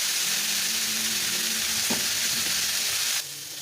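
Lamb chops sear in a hot pan with a steady, loud sizzle throughout, a brief utensil tap or two near the middle, and the hiss dropping slightly toward the end; no one talks.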